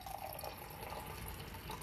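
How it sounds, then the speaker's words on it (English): Blackberry sage oolong tea poured steadily from a pot into a cup, a soft continuous liquid trickle with faint dripping, close and alone with no talking. "So I'm gonna go ahead and pour some of this out now."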